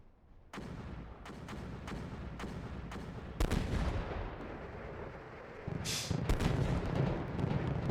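Incoming gunfire and artillery in the tank simulator Steel Beasts Pro PE during a winter battle, with repeated sharp cracks and heavy booms over a continuous low rumble, loud and close for the whole stretch.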